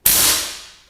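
One test shot from a C-series camouflage air rifle: a single sharp, loud crack with a bright attack that decays over about a second.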